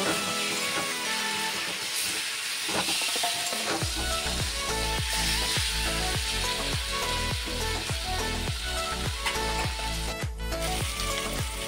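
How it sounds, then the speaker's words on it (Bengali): Fried potatoes tossed into a spiced onion masala for egg biryani crackle and sizzle loudly in the pan, with a rhythmic series of spatula scrapes and stirs over a continuous frying hiss, no talking. "এবার আমি ভেজে রাখা আলুটা দিয়ে দেবো"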